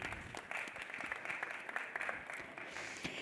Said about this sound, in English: If we could have a round of applause for the panelists.